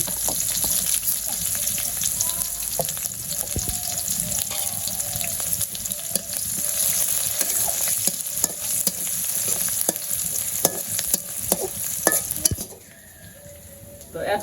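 Onions fry in oil with cumin and bay leaves during simple village cooking, a loud close sizzle punctuated by frequent spoon and pan scrapes from stirring, ending with a brief drop in sound.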